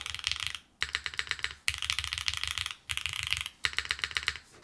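Fast, close typing on a Neo65 Core Plus mechanical keyboard with foam installed, giving a muted, stuffy clack. Dense bursts of keystrokes come in several runs with brief pauses between them.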